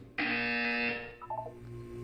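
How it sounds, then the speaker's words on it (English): A Portal 2 test-chamber buzzer blares as a loud, flat electronic tone for nearly a second, followed by a few softer, lower beeps. "When you hear the buzzer, look up at the ceiling."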